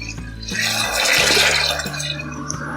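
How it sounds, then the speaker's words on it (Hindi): Water splashes and gurgles steadily into a cooking pot of chicken for biryani, about three litres poured in a continuous rush close by that swells slightly in the middle before easing. "अब इसमें हम 3 लीटर पानी डाल दें"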